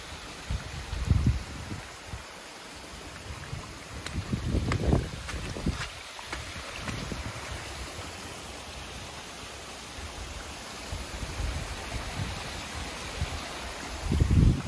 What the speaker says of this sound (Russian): Вот еще, ребята, водопады.